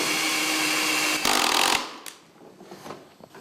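A power tool drives 3.5-inch screws through shims into a door jamb, a steady close whir that bursts louder briefly, then winds down into a few scattered knocks and clicks.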